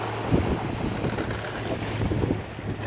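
Small shanty boat pushed by a 60 horsepower outboard motor through rough waves, with a constant low engine drone under heavy wind buffeting and water slapping against the hull.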